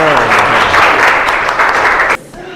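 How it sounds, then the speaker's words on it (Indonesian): Students in a sociology classroom clap together for a group, a dense burst of hand-clapping that runs about two seconds before stopping abruptly, leaving quieter room sound. "Ayo tepuk tangannya dulu."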